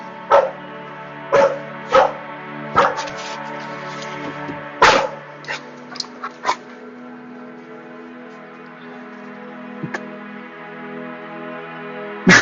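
A pet dog shut out of a room barks and yips repeatedly at the door, trying to get in. Sharp, close barks come in a quick burst over the first seven seconds, then a few isolated yelps, over a steady low household hum.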